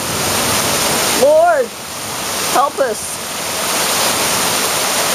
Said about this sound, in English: The water is just pouring off the roof and like droves here.